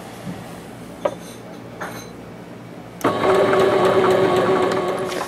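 A sewing machine runs a plain straight stitch with no backstitching. A few quiet clicks of handling come first, then the motor starts and whirs loudly and steadily for about two seconds.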